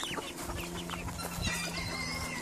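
Chickens at an animal rescue centre cluck and squawk in a busy overlapping chorus, several birds close by with a rooster-like call rising among them, no talk.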